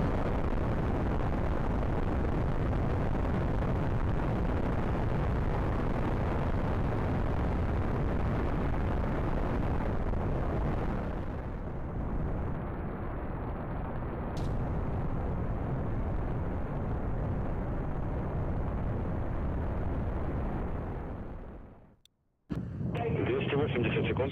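A Soyuz rocket climbing from the Baikonur Cosmodrome in the Spaceflight Simulator game, its engines giving a loud, steady, broadband roar that eases slightly before cutting out abruptly near the end, then briefly resuming.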